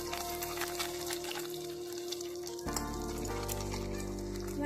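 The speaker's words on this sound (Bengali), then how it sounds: "মাছগুলো ভাজা হয়ে গেছে এবার তুলে নেব" Maya fish frying in hot oil gives a dense, steady sizzle with bubbling crackle, close by, deepening into a louder rumble partway through; nobody speaks.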